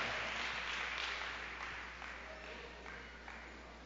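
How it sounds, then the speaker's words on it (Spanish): A church congregation claps together, a quiet, fairly distant patter of many hands that slowly fades, with a voice speaking over it. "Dele un aplauso fuerte al Señor, hermano"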